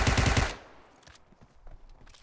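A 9mm gun fires in PUBG Mobile as a rapid, loud burst of close automatic shots, then quieter scattered game sounds follow.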